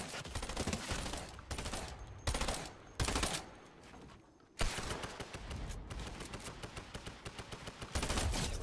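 Dual pistols fire in a Gun Game match of a shooter video game: loud, rapid bursts of shots in repeated volleys broken by brief gaps, with no talking.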